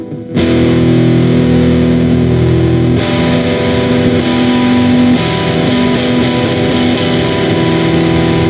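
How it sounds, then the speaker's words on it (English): Heavily distorted electric guitar played through an amp with a JHS pedal, loud sustained chords ringing with a harsh, clipped edge, with a brief quiet start and no talking. "that sound that is not part of the distortion of the amp is what the clipping is doing"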